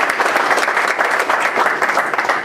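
A crowd at a political forum gives a guest a short, loud round of applause, dense overlapping claps heard close throughout.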